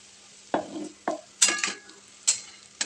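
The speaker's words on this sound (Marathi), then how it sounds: "शेंगदाण्याचं कूट मी टाकून घेतलं आहे आणि व्यवस्थित परतून घ्यायचं आहे" Potato sabzi with crushed peanut powder stirred in a pan, five or six sharp spatula scrapes against the metal with a short sizzle after each, close, no talking.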